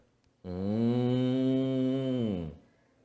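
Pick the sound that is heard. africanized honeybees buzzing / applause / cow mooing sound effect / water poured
cow mooing sound effect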